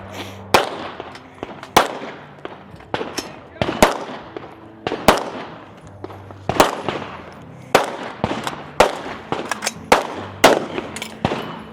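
Sharp rifle and pistol shots crack in irregular bursts at an outdoor shooting competition stage, loud and close, roughly two dozen reports with ringing tails across the stretch.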